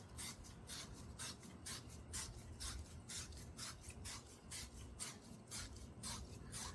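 Sandpaper scrubbing copper plumbing pipe in quick, steady back-and-forth rasping strokes, close and fairly quiet, with no talking.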